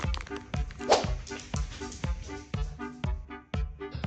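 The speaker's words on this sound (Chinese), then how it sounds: "当我尝试让狗子帮忙拿纸， 大白，大白，去，帮我拿包纸去。" A Samoyed makes a run of close, repeated yips, whines and soft barks in an uneven, chatty rhythm, with a faint voice briefly underneath.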